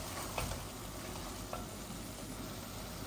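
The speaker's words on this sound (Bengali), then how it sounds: "এই দেখুন খুব সুন্দর হচ্ছে ভুনাটা আমার মিটের" Meat bhuna with potatoes frying in oil in a pan, a steady, faint sizzle with a couple of soft clicks, no one speaking.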